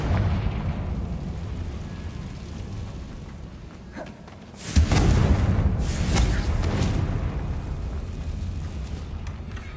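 A Confringo blasting curse erupts in Hogwarts Legacy, a sudden loud boom that swells into a roaring, rumbling blast and lingers for several seconds over a steady low background.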